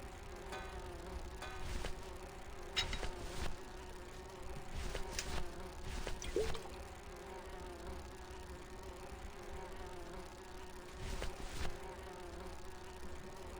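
Bees buzz faintly in the game Grim Fandango Remastered, a low droning hum with several brief louder passes as insects fly near, over a soft steady background.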